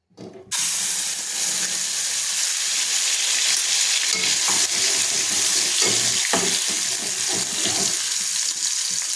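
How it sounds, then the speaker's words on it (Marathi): Ground spice paste for a fish curry drops into hot oil in a pot and bursts into a loud, steady sizzle, with scattered stirring scrapes throughout and no one speaking. "जे वाटण तयार करून घेतलेले ते टाकून आपल्याला परतून घ्यायचे"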